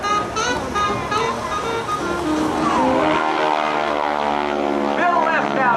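A 5,500-pound propeller aerobatic airplane roars overhead at an air show, its engine pitch rising and sweeping as it loops over the top, loud and steady with a voice faintly underneath.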